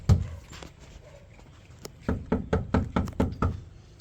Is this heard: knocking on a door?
yes